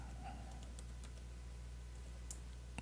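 Computer keyboard typing, faint scattered keystroke clicks at an uneven pace over a low steady hum, no talk.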